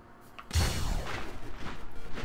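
Cannon fire from a plane in the arcade air-combat game Luftrausers: a sudden heavy boom followed by a dense, rumbling stream of rapid blasts that keeps pulsing unevenly to the end, loud and close with no talk.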